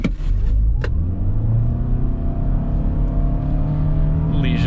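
A 2022 Toyota Sienna accelerating from a launch, with a loud, steady engine drone and a rising whine heard from inside the cabin, without gear-shift breaks.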